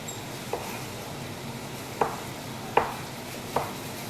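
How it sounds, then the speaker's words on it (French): A knife cuts a tomato into cubes on a board, four separate sharp chops spaced unevenly against quiet kitchen background noise. "On la coupe en cubes."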